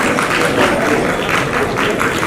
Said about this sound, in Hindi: तालियां रुकनी नहीं चाहिए और तालियां थमनी नहीं चाहिए।